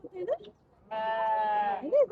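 A goat bleats in one long, wavering cry at a mini zoo in Kuwait, close and clear, framed by brief human voices before and after.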